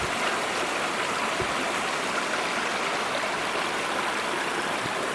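Water flows steadily in a stream, a constant close-up rushing and babbling with no voices.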